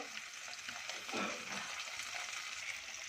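Fish frying in a covered pan, a steady soft sizzle with a brief louder swell of crackle midway, close and continuous with no talking.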